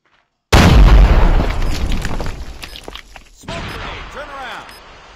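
A grenade detonates in a first-person shooter game with a sudden loud boom and rumbling blast that decays over a few seconds, followed by scattered debris and ringing game effects.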